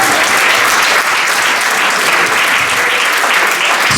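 A church congregation claps and cheers praising God during a worship service, a dense, steady wash of applause filling the whole stretch at close range.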